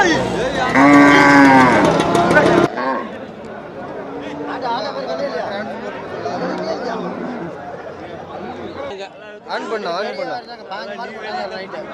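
Cattle moo loudly and repeatedly at the Namakkal Puthansanthai weekly cattle market, the strongest call close by at the start, followed by softer lowing amid a steady murmur of crowd chatter.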